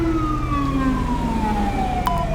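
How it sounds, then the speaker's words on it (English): A police car siren in GTA V during an LSPDFR patrol wails loud and close, its pitch gliding steadily downward as it winds off over a low engine rumble. "Turn my siren off real quick"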